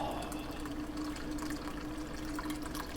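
Cranberry juice and rum cocktail poured from a shaker into a glass, a continuous liquid splashing and trickling sound, close and steady for a few seconds without talk.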